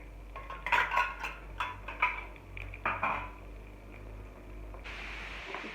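A utensil scrapes and clinks against a pan while stirring a hair oil mixture, a series of faint irregular metallic taps over a low steady hum.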